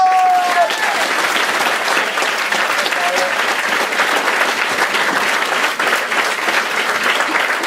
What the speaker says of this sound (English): we still like to give everyone a huge round of applause when they come on stage